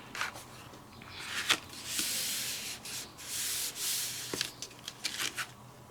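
Plain paper is rubbed over wet metallic gouache in a series of close, dry swishing strokes, some long and steady, others short and scratchy, with no talking.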